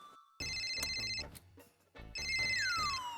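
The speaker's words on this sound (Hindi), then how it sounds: "फोन की घंटी बज रही है।" A phone rings in bursts of electronic chiming tones, close and fairly loud, with music playing underneath.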